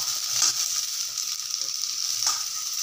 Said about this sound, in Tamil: 1 பொன் பொட்டுக்கல்லையும் கசகசாவையும் இதிலேயே போட்டு நல்லா வதக்கிடுறேன்